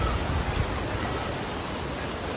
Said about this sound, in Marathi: एकदम जोराचा पाऊस चालू आहे